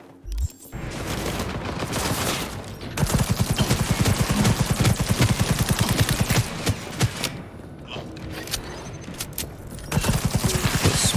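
A smart gun fires in Cyberpunk 2077, spitting rapid bursts of sharp, punchy shots in quick succession, loud and close, with short pauses between volleys.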